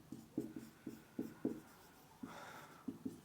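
Pen writing physics notes on paper, close and quiet, with short rhythmic scratchy strokes in bursts and a longer scribble near the end, no voices.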